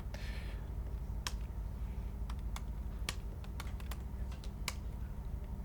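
Keys on a computer keyboard are tapped in sparse, irregular clicks while code is entered during a live-coding talk, the sharp strokes sitting over a steady low room hum with no speech.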